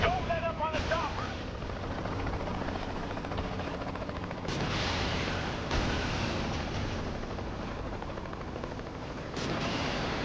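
Helicopter rotor and engine roar in Saints Row 3 Remastered, a continuous loud broadband drone with bursts of gunfire and occasional voices talking over the action.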